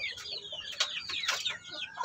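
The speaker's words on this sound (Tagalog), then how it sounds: "So may sisiyo kasi tayo dito 2 weeks old guys na Shamo asil." Two-week-old black Shamo Aseel chicks cheep and peep in a dense, continuous chorus of high chirps, with a few louder calls breaking through nearby.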